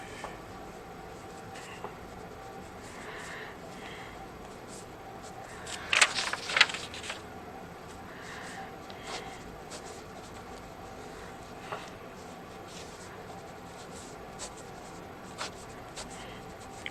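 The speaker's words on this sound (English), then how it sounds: "maybe it is good to draw like a chart kind of thing" A pen scratches across paper while a calculus chart is sketched, with soft, intermittent strokes and a short burst of quicker scribbling, faint and close over a quiet room hum.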